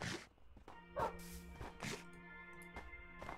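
Dogs in the block-building game Minecraft, barking several times in short separate yips and woofs, fairly faint, with no talk over them.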